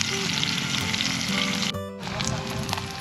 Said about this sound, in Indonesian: Nah ini teman-teman kita bikin belut goreng belut crispy